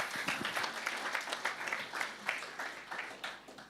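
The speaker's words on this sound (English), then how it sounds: "So here, give me a big applause." An audience applauds after a presentation at a technical session on optics for IP engineers, a dense, steady patter of many hands clapping at close range, with no voices over it.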